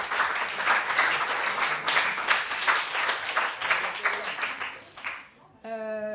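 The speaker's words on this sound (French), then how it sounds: "je pense qu'on va peut-être les applaudir" An audience applauds the film crew at a French urban-policy gathering, with steady, fairly near clapping that goes on for about five seconds and then stops, followed by a brief tone.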